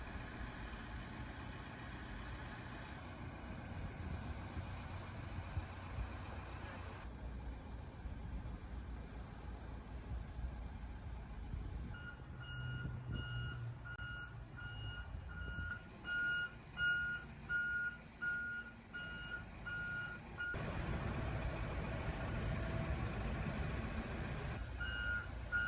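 A boatyard lift manoeuvring near a boat out of the water, with a steady engine rumble and a run of evenly spaced reversing beeps in the middle stretch, then louder engine noise toward the end.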